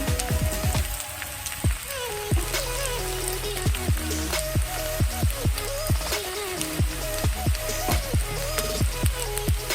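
Spices and turmeric cooking in a frying pan for a cauliflower, potato and egg curry, with a steady loud sizzle and dense popping and spattering throughout.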